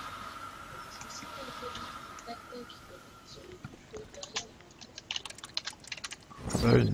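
Fast typing patters on a mechanical keyboard while playing Epistory, a typing game, the clicks growing denser and louder toward the end over soft game sounds.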